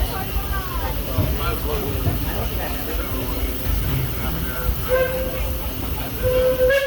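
A Disneyland Railroad steam train rolls along the rails with steady rumbling, clacking and hissing under an amplified onboard narration, with a faint steam whistle tone rising near the end.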